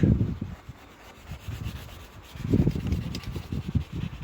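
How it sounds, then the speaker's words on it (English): White chalk rubs over a drawing in uneven strokes, a soft scratchy scraping that comes and goes in short bursts, close and quiet, with no talking. "I could just rub out that blue, but I'm going to use a bit of white chalk."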